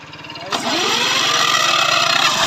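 A two-cylinder diesel engine turns over on its self-starter and catches about half a second in, then settles into a loud, steady, close chugging idle with a rapid regular beat.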